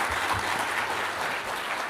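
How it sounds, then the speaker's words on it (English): An audience at a data science meetup panel applauds, a dense even wash of clapping from a roomful of people that continues steadily throughout. "give a round of applause"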